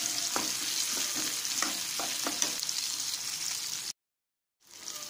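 A tempering of spices, turmeric and curry leaves for Andhra gongura pachadi sizzles in a pan with brisk stirring clicks, then cuts to near-silence for about half a second before the sizzle returns.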